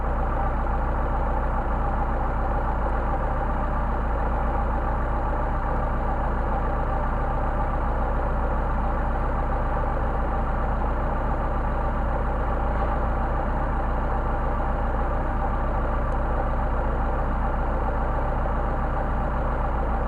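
A Mercedes 190SL engine idles on Solex carburetors, whose idle is degrading, a loud, steady low rumble running unbroken and close by with no talk over it.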